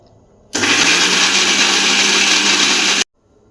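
A kitchen blender grinding green chillies into a paste runs at a steady, loud whirring pitch for about two and a half seconds, then cuts off abruptly into near silence.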